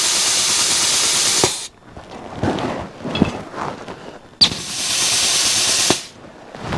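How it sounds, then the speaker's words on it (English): Grease gun pumped while empty during vehicle maintenance: bursts of loud hissing air spray, broken by a quieter stretch of scraping and clicking, then another long hiss. "grease gun's out of grease."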